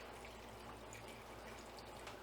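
Beef broth pours into a pan as a faint, steady liquid trickle and splash, with a low background hum and no voices.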